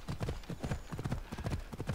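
Horse hooves clip-clop at a steady gallop in Assassin's Creed Odyssey, a quick repeating rhythm of close, firm hoofbeats that runs through the whole moment.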